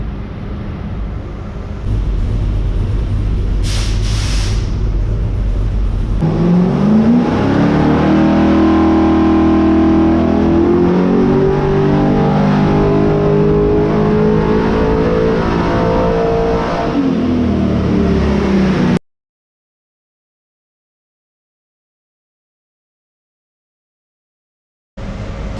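A Holden XG ute engine on a nitrous 200 shot, using number 8 plugs, roars at full load on a dyno with rising and falling pitch sweeps for about twelve seconds, steady loud running before and after, then an abrupt cut to silence.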